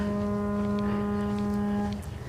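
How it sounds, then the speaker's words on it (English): A ship's foghorn blows one long, steady, deep tone for about two seconds, loud and harmonic-rich, over a murmur of background noise, then cuts off. "So that's like a foghorn on a ship, I think."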